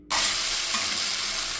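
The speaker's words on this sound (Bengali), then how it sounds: "এবার চালগুলোকে হালকা হাতে 8 থেকে 10 মিনিটের মতো ভেজে নেব।" Basmati rice frying in a pan bursts into a loud, steady sizzle as the grains hit the hot fat, a dense continuous hiss that holds evenly, with faint stirring beneath.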